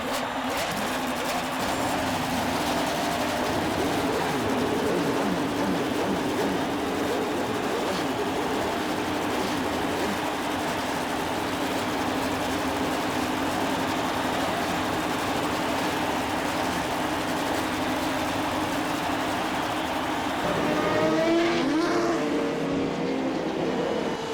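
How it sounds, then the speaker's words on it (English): A field of 33 Indy 500 race cars, 2005 race at Indianapolis, fire up their engines together, producing a continuous loud roaring drone with rising revs near the end, amid crowd noise. "gentlemen, start your engines."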